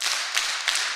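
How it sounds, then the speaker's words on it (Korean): Congregation clapping in unison in a church during a Wednesday prayer meeting, with three loud claps evenly spaced across a second, with no talk. "자, 박수 3번 시작"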